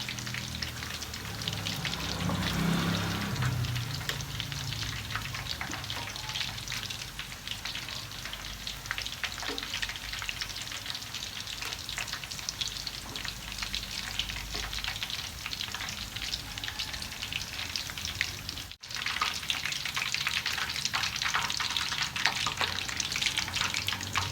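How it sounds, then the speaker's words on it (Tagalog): Chicken pieces deep-frying in hot oil during the second fry for butter honey chicken, a steady dense crackling sizzle that holds up close and continuous throughout, with faint clinks now and then. "Sa pangalawang fry natin, hatiin natin ito sa dalawa na kasi mag-overcrowded siya."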